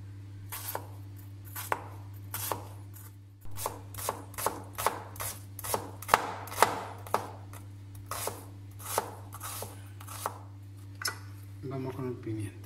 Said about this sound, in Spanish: Empezamos picando lo que son las cebollas.